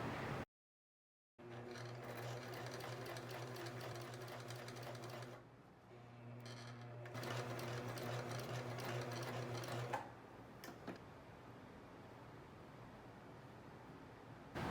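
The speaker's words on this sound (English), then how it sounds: "In order to gather the fabric, what I'm going to do is sew 2 parallel straight stitches next to each other." A sewing machine runs close by, sewing two parallel straight gathering stitches in fabric for a halter crop top, a fast steady whirring hum in several runs split by short pauses and lulls, with no talking.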